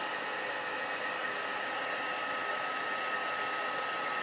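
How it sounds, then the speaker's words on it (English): Steady, loud, continuous airy roar of a heat gun blowing during a faux patina paint technique, unbroken throughout with no talk. "it's good to turn the heat gun in different angles"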